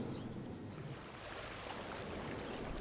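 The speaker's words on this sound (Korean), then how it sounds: "파도는 내 마음을 아는지 모르는지 철썩철썩 잘도 오가네" Sea waves wash steadily against a shoreline on the Gangwon coast, a soft continuous rushing surge with gentle swells and no voices.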